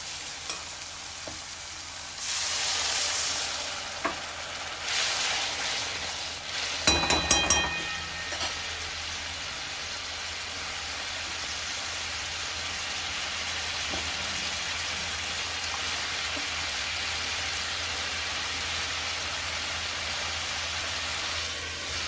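Lote fish pieces dropped one by one into sizzling spice masala in a pan, with water added; a loud steady frying hiss fills the clip, with a burst of splashing and clatter early on, then continuous even sizzling with no talk.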